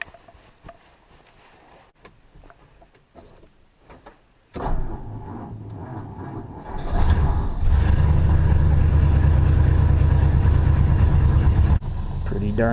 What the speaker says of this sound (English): Pretty darn good idle for a cold engine.